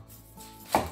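A knife cutting the top or bottom off an onion on a cutting board, a single crisp chop near the end of a quiet moment.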